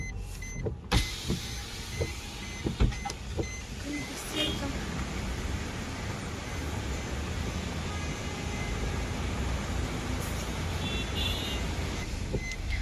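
Traffic sits stuck in a long jam on Khambatki Ghat road near Satara, in thick fog, behind a broken-down truck. A steady, muffled engine rumble and road hum is broken by a few sharp clicks near the start, with voices in the background.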